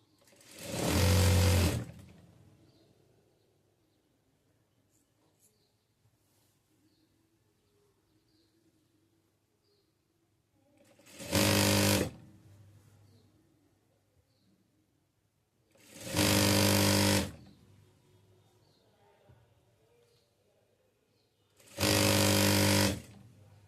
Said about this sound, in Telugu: మనం ఇక్కడి నుంచి కుట్టు వేయడం స్టార్ట్ చేద్దాం